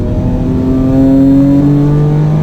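A Mitsubishi FTO Version R race car accelerates hard on a track, its engine note climbing steadily in pitch, loud and close throughout with no talk.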